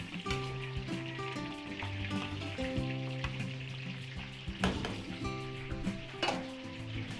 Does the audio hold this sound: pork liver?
yes